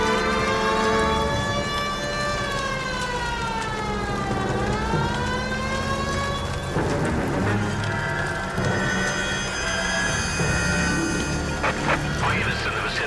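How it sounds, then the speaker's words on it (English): Police car siren in the video game LA Noire, a wailing tone sweeping down and up over a rumbling engine, loud and continuous, later mixed with other game noise and a brief voice. "The siren might keep people out of his way."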